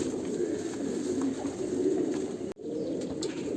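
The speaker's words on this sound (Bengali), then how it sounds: "দেখুন এখানেও আছে গোটা 7 পিস পায়রা, দুটো খাঁচায় রেখেছি।" Several pigeons, some kept in cages, coo in low continuous throaty rolls close by, with a brief break partway through.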